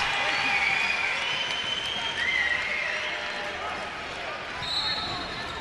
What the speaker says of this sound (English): And Kiwi Gardner gets a nice round of applause.